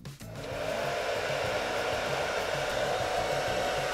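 Philips BHD006 hair dryer switched on at its lowest setting, a brief click followed by a steady, close whooshing blow with a low motor hum underneath, constant and fairly loud with no talking.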